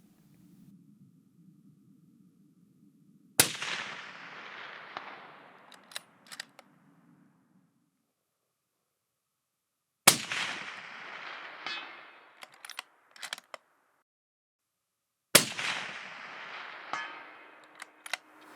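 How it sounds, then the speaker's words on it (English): A rifle fired up a hill toward a 400-yard target gives three loud, sharp cracks several seconds apart, each trailing off in a ringing echo, with a low hum before the first shot and quiet between shots. "So we set up behind the Ultimate Reloader cabin and took a shot up the hill."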